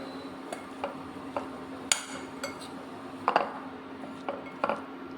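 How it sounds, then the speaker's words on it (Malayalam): A spoon clinks and taps against a bowl while raw mango masala is mixed with coconut oil, chilli powder and salt, a series of light, irregular clicks over a quiet background hum. "ഇനി ഇതെല്ലാം ഇളക്കിയെടുക്കാം"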